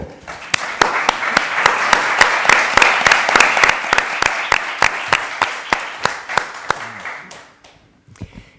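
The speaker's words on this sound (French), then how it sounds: "Je vous demande de lui faire un applaudissement pour nous avoir rejoints ici." An audience applauds guests at a cinema talk, with a single person's loud, steady claps standing out near the front over softer crowd clapping. The applause tapers after about seven seconds, leaving faint room noise.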